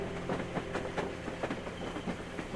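A train from black-and-white footage in the video game Train Song rolls along with a rhythmic clickety-clack of wheels over rail joints, the regular knocks sounding moderately close against a steady rumble.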